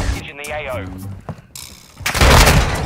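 A cruise missile strike in the video game Modern Warfare 2: game chatter and a brief raised voice give way to a sudden, loud, roaring explosion that fills the last second.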